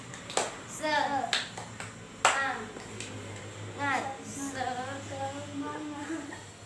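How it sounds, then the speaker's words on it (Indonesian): A primary school class performs the 'tepuk semangat' clapping chant, with sharp rhythmic hand claps in short bursts mixed with children's chanting voices in a classroom. "Pada hari ini saya ingin ice breaking tepuk semangat"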